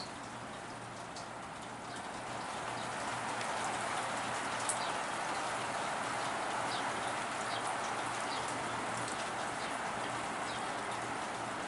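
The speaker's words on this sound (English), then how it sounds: "it's been raining pretty steady Not a hard rain, a nice rain." Steady light rain patters evenly on surfaces, soft and continuous, building slightly after the first couple of seconds, with no one talking.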